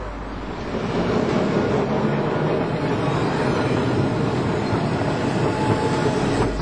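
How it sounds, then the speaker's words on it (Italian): A Milan line 5 tram runs on its rails, a steady low rumble and rolling roar that swells after the first second and holds evenly to the end, with no talk. "Tram della linea 5 da Ortica direzione Niguarda, linea di 10 km."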